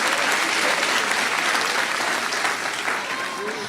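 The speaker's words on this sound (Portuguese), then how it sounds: "Olha como é que o aplauso fica fraquinho." Audience applause at a Christian preaching event, a dense wash of clapping that stays steady and fairly loud throughout, then slowly thins and softens toward the end.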